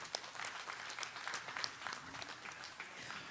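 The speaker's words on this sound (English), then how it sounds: "why don't we start this by giving everybody, all these exhibitors, a big round of applause" A crowd applauds junior exhibitors at a Limousin cattle show, a fairly quiet, somewhat distant patter of many hands clapping, uneven and continuous, with faint voices mixed in.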